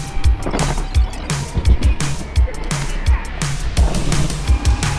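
An Exway Wave short electric skateboard rolls along with a steady rumble and a run of rhythmic low thumps, fairly close, with no talking.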